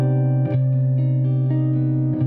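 A jazz guitar minor major 7 chord rings out sustained with a rich, steady harmonic tone, lightly re-articulated a few times, alone with no talking.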